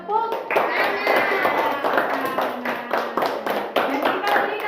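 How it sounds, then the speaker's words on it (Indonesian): A classroom of students clapping for group one's work, steady overlapping handclaps throughout, with voices audible under and over the applause. "Kita berikan tepuk tangan."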